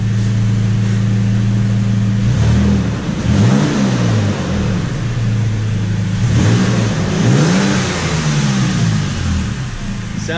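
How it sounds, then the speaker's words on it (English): A 2016 or later Toyota Tacoma with an aFe Hi-Tuck exhaust, revved close by in a few rising and falling bursts over a steady deep idle, loud throughout. "Give her some revs."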